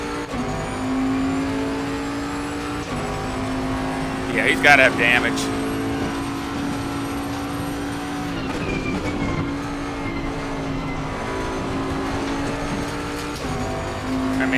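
Bentley GT3 race cars in Assetto Corsa Competizione at Zandvoort: a steady engine drone with rising and shifting tones and brief tire squeals, under continuous talk.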